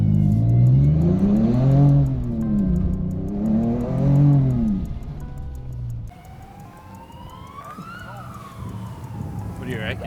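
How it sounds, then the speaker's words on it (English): A Raptor build car fitted with a new exhaust mid pipe revs hard outside, deep rising and falling engine surges repeating for several seconds before settling into a lower idle with a whining tone. "Morgs, give it a razz. I want to hear what it sounds like from the outside."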